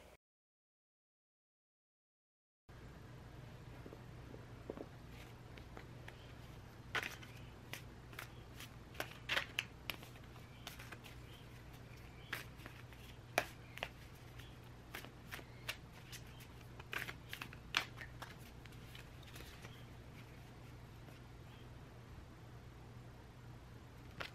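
Tarot cards being shuffled close up for a long stretch after a silent opening, a steady papery riffle dotted with sharp clicks and flicks, with no voice.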